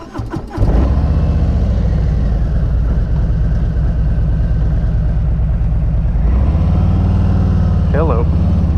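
A 2020 Harley-Davidson Road King S motorcycle engine cranks and fires up, then settles into a loud, lumpy V-twin idle with a short blip of revs near the end.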